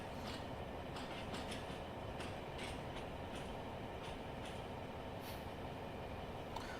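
A train in the Train Simulator video game rolls forward past a set of points, giving a steady, loud rumble of wheels and motor that holds unbroken throughout, with faint rhythmic clicks on top.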